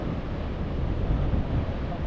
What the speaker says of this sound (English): Huge wave coming through here at Chivongo Pier.